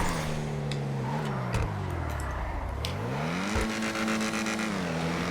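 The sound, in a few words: Ocelot Jugular car exhaust in video game GTA Online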